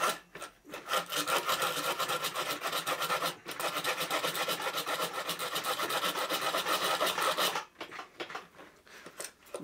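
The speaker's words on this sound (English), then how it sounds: "Doesn't want to cut on the backward stroke." An 11-in-1 magic hand saw cutting wood, loud rasping strokes repeating steadily for several seconds, pausing briefly, then resuming with harsher scraping, close and alone without talk.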